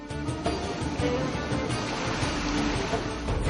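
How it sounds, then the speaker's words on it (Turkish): A rushing mountain stream, the Fırtına, pours through the Ayder plateau in Rize, a steady, loud, dense roar of churning water that holds constant without pause. "Ayder Yaylası'ndan geçen Fırtına Deresi'ni dinlediğinizde onun öfkeyle aktığını görüyorsunuz"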